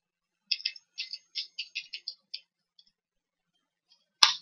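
Sharp, dry clicks of a computer mouse and keys, a quick cluster of separate taps followed by a pause and one louder click at the end, close and isolated in a quiet room.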